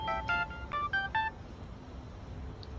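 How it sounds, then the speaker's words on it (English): Telephone keypad dialing tones in the Dreamfall Chapters video game: a quick burst of about six sharp, clear beeps in uneven rhythm during the first second and a half, followed by quiet background. "Phone call?"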